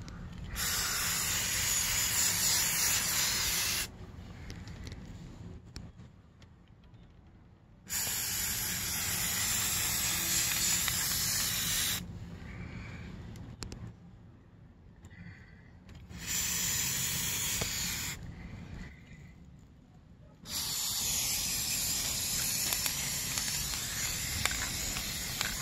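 Spray paint can hissing in long steady bursts of several seconds each, separated by short pauses, close and fairly loud, with no talking.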